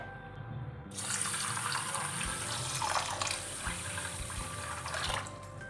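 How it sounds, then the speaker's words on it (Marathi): Water is poured over rinsed finger millet to soak it, a close, steady splashing pour that starts abruptly after a quiet second and runs on alone without talk. "आता आपल्याला नाचणी बुडेल एवढं पाणी घालायचं आहे"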